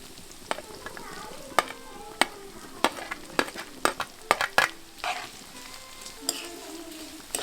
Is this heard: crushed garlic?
yes